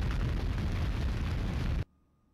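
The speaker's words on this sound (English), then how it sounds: "Why did the room explode up there?" Room explosion in a Sega CD video game: a loud, dense roaring blast that holds steady for almost two seconds, then cuts off abruptly into near silence.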